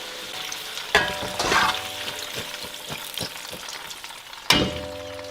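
Chilies sizzle and crackle as they fry in oil, with sharp pops and bursts breaking out now and then, close up.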